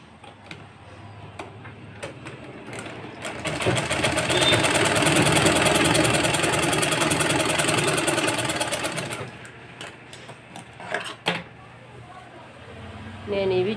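A sewing machine stitches the lining of a blouse in one sustained run of rapid, even mechanical whirring for several seconds, close and loud, with quieter handling sounds before and after and someone speaking briefly.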